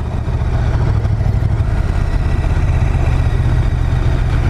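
A KTM 1290 Super Duke GT motorcycle riding on the road, its engine a steady, low droning rumble heard continuously at close range with wind noise and no talking.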